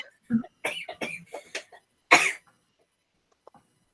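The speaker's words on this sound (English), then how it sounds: "I've just had a bit of a cough the past couple weeks" A burst of several rough coughs up close, followed by one more sharp cough and then near silence.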